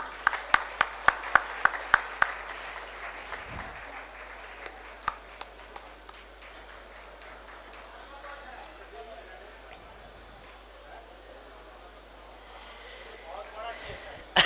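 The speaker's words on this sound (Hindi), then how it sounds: "जोरदार तालियां।" A burst of sharp, distinct claps opens, then fades into a soft, scattered patter of applause for an honoree at a workers' award ceremony, with a voice speaking over the quieter stretch.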